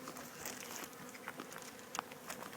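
Small cell honey bees buzzing around a hive during installation, a faint steady hum of many insects with occasional individual bees passing closer.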